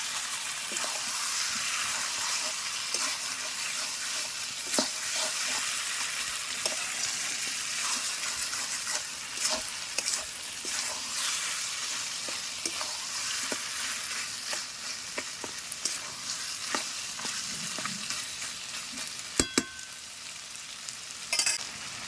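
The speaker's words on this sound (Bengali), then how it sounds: "তো সব কিছু ভালো করে কষে নিতে হবে" Mutton curry from a young goat sautéing in a pan, a steady loud sizzle and frying hiss with occasional scraping stirs and clinks from the spoon, close by with no talking.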